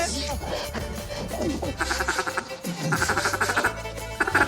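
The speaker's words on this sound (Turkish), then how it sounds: "Ya ördek sesi nereden geldi?" Nasal, rhythmic quacking bursts over a busy background of music and voices, the calls repeating in quick runs.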